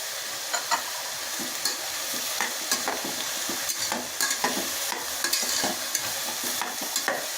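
Peas and carrots fry and sizzle in a pan for pav bhaji, with steady close sizzling and repeated scraping stirs throughout.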